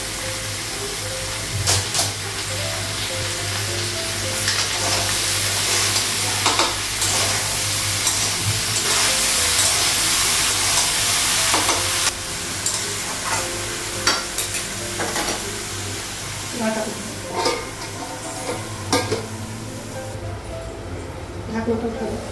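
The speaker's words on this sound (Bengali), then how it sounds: "চিংড়ি আর আলুটা লাগাবো" Prawns and potatoes fry in a pan over a gas flame, giving a steady close sizzle broken by scraping stirs, with a voice talking over much of it.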